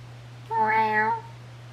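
A cat gives a single clear, drawn-out meow lasting about half a second, close and fairly loud over a steady low hum.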